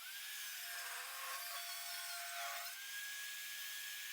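A power saw rips an 8/4 ash board into strips, its high whine steady and loud, with the pitch sagging under load as the blade cuts through the thick hardwood, then rising back to idle.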